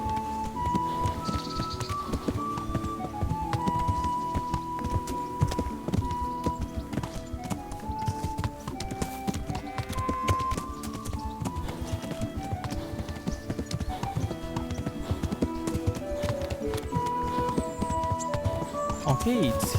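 Horse hooves clip-clop in Kingdom Come Deliverance, a steady patter of hoofbeats beneath a loud musical score throughout.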